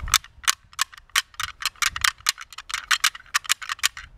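A deer rattling bag is worked by hand with a paddle to mimic sparring bucks, producing a loud, close series of sharp clattering rattles in quick, uneven bursts with no voices.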